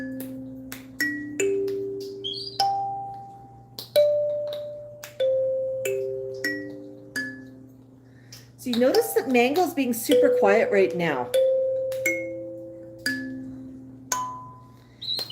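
A kalimba plays slow, plucked metallic notes one after another, each ringing and fading, with a steady low hum beneath and a short stretch of a person talking in the middle.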